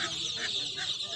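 Chickens cluck in a short, continuous burst at a poultry market, close and busy, with faint market noise behind them.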